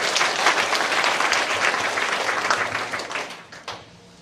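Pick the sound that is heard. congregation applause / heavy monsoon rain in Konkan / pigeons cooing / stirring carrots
congregation applause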